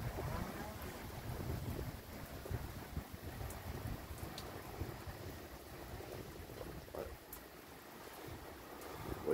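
Gusty wind builds during a violent thunderstorm in Saint-Ambroix, Gard, rushing and buffeting the microphone in a steady, dense roar with rain-like hiss throughout.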